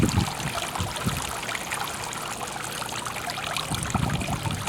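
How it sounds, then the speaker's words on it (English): Water slowly trickles and drains from a pool vacuum line clogged with leaves and debris during manual pool vacuuming, a steady close-up dribbling stream. "Look how slow the water drains out."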